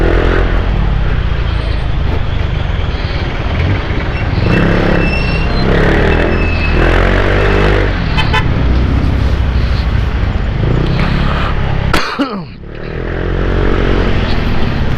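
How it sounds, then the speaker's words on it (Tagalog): Congested road traffic rumbles loudly and up close, with engines idling and revving, a few short horn-like tones, and a sudden whooshing passing vehicle near the end. "Grabe naman to traffic na to."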